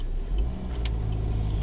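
A car being driven, its engine giving a steady low hum and road rumble from inside the cabin, moderately loud and continuous with no talk.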